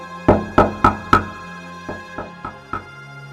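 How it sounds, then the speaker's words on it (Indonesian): Knocking on a door, four firm evenly spaced knocks followed by a pause and then four softer, more muffled knocks, close and resonant with no voices. "Aku pun memberanikan diri dan mengetuk pintunya."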